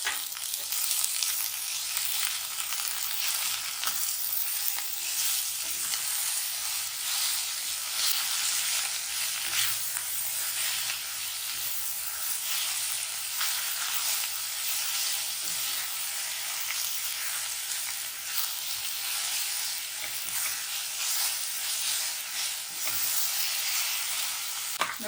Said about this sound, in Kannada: ಇಷ್ಟನ್ನು ಚೆನ್ನಾಗಿ ಫ್ರೈ ಮಾಡ್ಕೊಳ್ಳೋಣ.